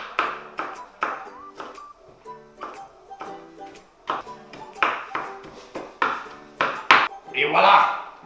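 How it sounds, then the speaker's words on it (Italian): Series of sharp knife taps chopping a shallot on a cutting board in an irregular rhythm, with clinks and a brief rustle near the end, close up. "iniziamo a tagliuzzare la nostra cara amica cipolla"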